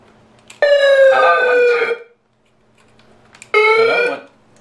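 Two loud, separate blasts of a loudhailer's electronic siren, each a harsh falling wail lasting over a second, with a brief silence between them.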